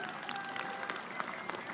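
A rugby crowd at a post-match gathering gives a player steady applause, a continuous wash of many hands clapping, heard from a short distance with faint voices mixed in.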